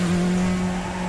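A race car in the sim game RaceRoom slides wide as its engine revs, a steady loud engine drone with tire scrub, heard alone in a brief burst.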